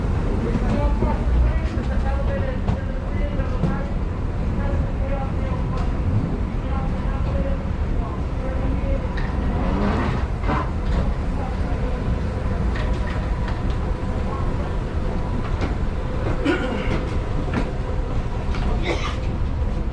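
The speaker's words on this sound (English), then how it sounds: "Train departing." A shuttle train at a Chicago airport terminal pulls away with a continuous low rumble and rolling hum, while announcements and voices sound over the motion throughout.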